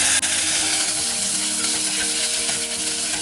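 Two small chopped tomatoes hit sautéed onions in a hot pan for a mutton curry, giving a loud, close, continuous sizzle with light stirring and no speech.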